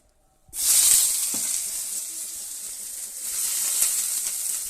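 A papad drops into hot oil at the edge of a pan of frying soybeans, bursting into a loud, bright sizzle after a half-second of quiet and then hissing steadily to the end.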